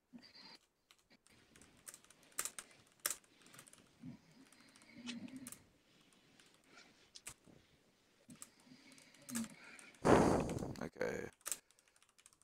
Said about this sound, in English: I just want to type something.